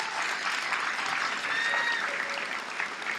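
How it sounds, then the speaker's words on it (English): Dense audience applause at a high school graduation, a continuous wash of many hands clapping with faint cheers and whistles mixed in, sustained throughout. "I think that deserves an applause."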